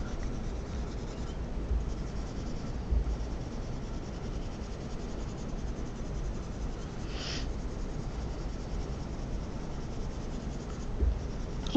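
Pencil shading on paper to darken a cylinder's shadow, a continuous soft dry scratching and rubbing close up, steady throughout with a few slightly harder strokes.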